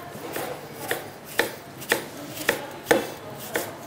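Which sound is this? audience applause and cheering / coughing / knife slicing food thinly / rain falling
knife slicing food thinly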